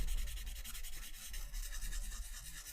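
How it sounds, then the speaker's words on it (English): Continuous rough scraping of sandpaper rubbed back and forth by hand, close and steady with a faint rhythmic pulse. "How's the sanding sound on the mic?"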